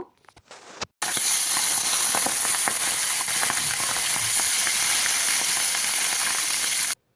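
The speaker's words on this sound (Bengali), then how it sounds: "মাছ ভাজা হতে থাকবে" Fish frying in hot oil gives a loud, steady, close hiss and crackle that starts abruptly after a brief quiet moment and runs unbroken for several seconds, with no voices.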